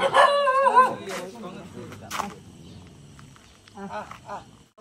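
A mother dog guarding a gate barks several times in quick succession close by, loud at first, with voices talking around it and quieter barks later.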